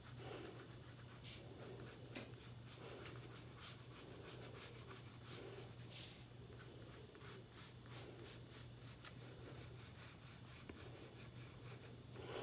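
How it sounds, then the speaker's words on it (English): A pencil drawing very lightly on paper during a classroom observational drawing lesson makes a faint, continuous soft scratching of short repeated strokes over a steady low background hum. "I'm drawing really lightly"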